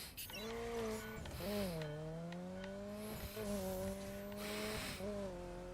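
A racing-game car engine revs and shifts in The Crew, its pitch climbing and dropping through several gear changes, with tire squeal in the background.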